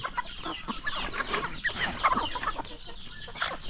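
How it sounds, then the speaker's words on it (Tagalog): Free-range chickens on a farm with chicks cluck faintly in scattered, overlapping bursts at some distance, with no voices. "Free range na mga manok."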